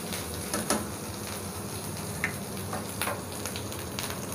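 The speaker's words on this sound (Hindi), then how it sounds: "जो अदरक लहसुन का पेस्ट लिया था 1/2 चम्मच घी में ये ऐड कर देंगे। इसको थोड़ा सा घी में पका लेंगे" Ginger garlic paste sizzles and crackles in a small amount of ghee, a dense, continuous frying hiss with scattered pops, close and alone without talk.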